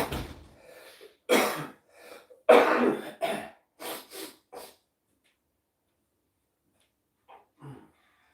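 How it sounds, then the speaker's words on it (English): Series of rough, raspy coughs and throat clearing, loud and close in irregular bursts over about five seconds, then silence and a couple of faint coughs near the end. "I wish this cough would go away"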